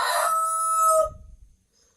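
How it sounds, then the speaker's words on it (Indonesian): A rooster crows loudly and close by for about a second, a long harmonic call that cuts off sharply, followed by a brief low rumble and then near silence. "itu ayam sangat berisik sekali"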